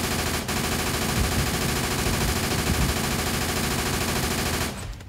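Dense, continuous gunfire in a courtroom scene of Syphon Filter 3, a loud unbroken roar of shots running for several seconds before cutting off abruptly, with no voices.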